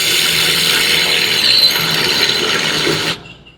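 A surgical glenoid reamer runs down over guide pins onto the glenoid until it reaches its positive stop. It makes a steady, loud mechanical whirring grind that cuts off abruptly shortly before the end.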